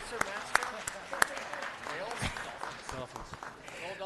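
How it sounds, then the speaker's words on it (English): An audience at a city council meeting gives a round of applause for a former Pali High graduate. The scattered, fairly faint claps sound beneath ongoing talk, with a few sharper individual claps standing out. "I'm going to ask you to give a round of applause to one of the former graduates from Pali High, Jordan"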